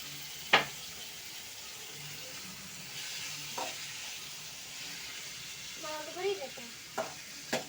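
Tomato curry sizzles softly in a pan while a spoon stirs it, a faint steady hiss broken by a few sharp clinks of utensil on metal, with brief bits of voice and a small child-like sound near the end.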